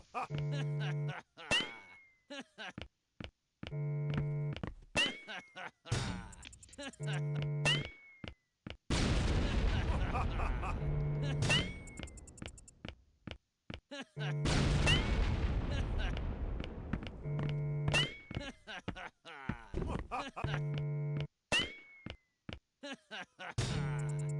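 Grenade explosions and bursts of gunfire in the iOS audio game Mindshot, with long roaring blasts breaking up a steady, rhythmic run of sharp shots and electronic tones.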